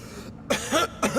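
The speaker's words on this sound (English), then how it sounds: "That's the first time I've heard you cough in a while." A character in the video game Showgunners gives a short, close cough of two or three rough bursts, with no other voices around it.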